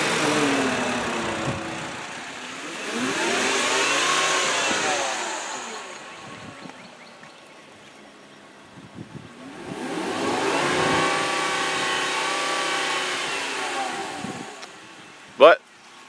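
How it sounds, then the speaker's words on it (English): A 2011 Volkswagen Beetle with a five-cylinder engine runs with the hood up, holding a smooth, fairly quiet idle with two swells in engine noise, then ending in a short sharp click. "that's the sound a 5-cylinder Volkswagen motor makes"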